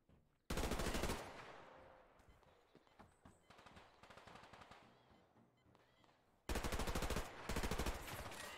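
Gunfire in the online shooter Survarium: a long, loud burst of automatic fire, then scattered lighter shots and rattling, and a second heavy burst of rapid shots near the end.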